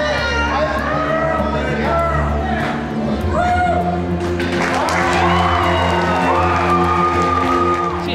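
An arena crowd at a Special Olympics weightlifting event cheers and whoops steadily throughout, a loud continuous roar with shouts rising over it.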